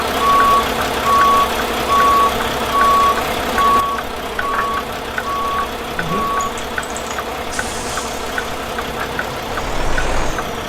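A B-double truck reverses in American Truck Simulator, its reversing alarm beeping steadily about twice a second, with engine drone heard throughout and no voices.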